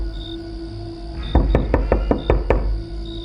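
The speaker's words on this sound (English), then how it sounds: "I knocked repeatedly at the door, but received no response." Knuckles rap on a door in a single burst of six or seven sharp, close knocks at a steady, insistent rhythm, then stop, heard over a low hum with no voices.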